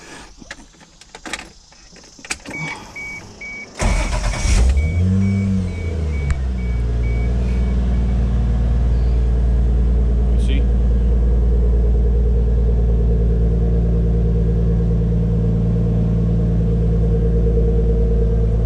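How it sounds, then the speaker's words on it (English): A Toyota Supra MK3 engine cranks with a brief whir after a few clicks and door sounds, then catches and settles into a loud, steady, close idle rumble. "the car is running great. Starts up"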